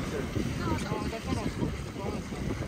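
Strong Antarctic wind buffets the microphone in continuous loud rumbling gusts, with a dense roar that swells and dips throughout.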